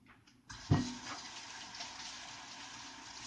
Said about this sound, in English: Get the hands in the wash here.